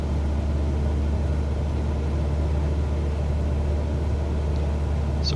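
A light aircraft engine in Microsoft Flight Simulator 2020 on final approach to an airport, droning steadily and loudly with a constant low rumble throughout, no talk.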